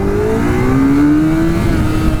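A 2002 Honda CBR1100XX Super Blackbird motorcycle accelerates hard from a standstill toward 60, its engine note climbing steadily in a loud, continuous whine heard close from the rider's position, with wind rush and no talking.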